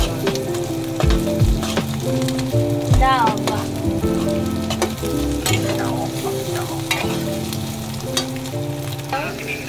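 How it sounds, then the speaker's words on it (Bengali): An egg fries in butter in a hot pan, giving a continuous, close sizzle broken by clattering stirs and spatula scrapes from start to finish. "বাটারের মাঝে আমি ডিমটা ভেজে নিলাম"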